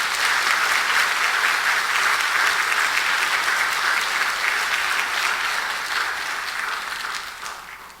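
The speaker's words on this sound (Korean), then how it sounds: "우리 다시 한번 박수 한번 하십시오" A church congregation claps together in a dense, sustained wash of applause that holds steady for several seconds and then tapers off toward the end, with no voices over it.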